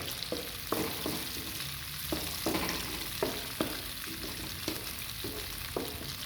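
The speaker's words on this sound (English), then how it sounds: "So I'm gonna stir it a bit." Sambal sizzling in a frying pan while a spatula stirs it, giving regular scraping strokes about every half second over a continuous close, hissing fry.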